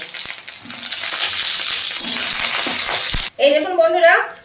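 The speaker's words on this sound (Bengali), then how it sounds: "এবার আমি বেগুনটা ফেলে দিচ্ছি বেগুনটাকে আমি প্রথমে একটু ভেজে নেব" Eggplant drops into hot oil in a wok and a loud, close sizzle and crackle rises at once, then settles into steady frying with some stirring.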